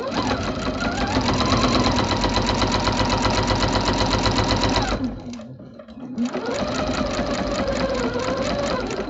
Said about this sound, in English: I'm going to sew the first one, then I'll come back over and do the second one on top.